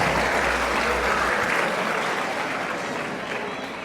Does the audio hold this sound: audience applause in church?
yes